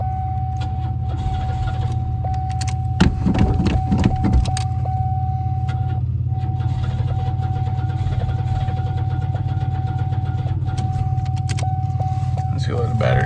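A 1993 Oldsmobile Cutlass Ciera engine cranking over steadily with a droning starter hum, stumbling as if about to catch on its own fuel, with a brief burst of mechanical clatter partway through and no clear firing.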